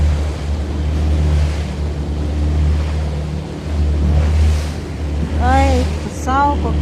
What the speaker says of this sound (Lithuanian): Ai, tu savo kokios bangos.